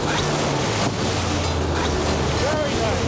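Water from a speedboat's wake splashes against a catamaran at sea, a steady roar of wind and surf sloshing throughout with a low engine hum beneath.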